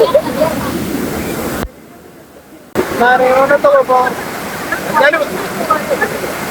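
A waterfall roars as a steady broadband rush, with a brief cut partway through, and people talk and shout over it nearby.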